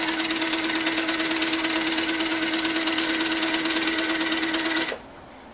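A sewing machine stitches a pieced quilt border in one steady, loud run of rapid, even stitching, near and alone, stopping abruptly just before the end.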